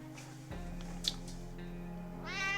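A cat meows in the video game 60 Seconds, a single rising meow near the end that follows a quieter stretch of game sounds and music.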